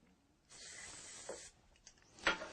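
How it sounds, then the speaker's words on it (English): Aerosol dry lubricant, Boeshield T9, sprayed up inside a drill chuck: one steady hiss of about a second, followed by a few faint handling clicks and a short louder rustle. "apply a film of a drying lubricant like Bow Shield T9"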